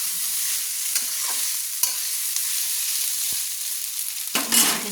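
Chicken chowmein tossed and mixed in a kadai over a medium flame, a close, continuous frying hiss with scattered clinks and scrapes, ending in a louder clatter.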